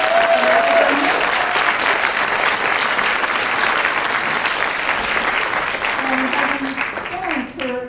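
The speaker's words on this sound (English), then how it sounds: "Round of applause for your 20 years service." Loud, sustained applause from an audience at an event at the Intrepid Museum, continuous clapping throughout with a few voices calling out beneath it near the start and end.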